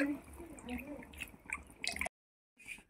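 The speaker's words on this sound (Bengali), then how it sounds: "জল দিয়ে দেওয়া হচ্ছে, যেহেতু ঝোল হবে একটু বেশি করেই জল দেওয়া হবে।" Water pours onto mutton pieces in a pressure cooker, with soft liquid splashing and dripping that stops abruptly, then a brief faint trickle.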